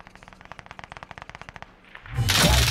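Rapid automatic gunfire in Call of Duty Warzone, a long burst of about twenty evenly spaced sharp shots, followed by a louder, dense roar of blasts and noise at the end.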